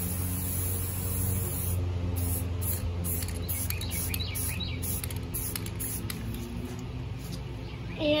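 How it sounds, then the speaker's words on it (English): Spray paint hisses steadily onto a farmhouse dining table, a continuous broad airy spray lasting throughout, with faint background chirps. "stand back and spray."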